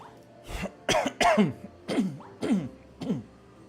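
A person coughs repeatedly, six or seven short, harsh bursts in irregular succession, close to the microphone with little else around.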